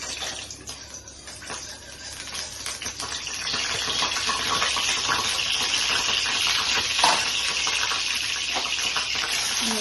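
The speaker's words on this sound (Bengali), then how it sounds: "সয়াবিনগুলোকে ভেজে নিচ্ছি" Soybean chunks marinated with salt and turmeric fry in a pan, giving a steady broadband sizzle that builds slightly after the first few seconds and holds throughout, close and continuous with no talk.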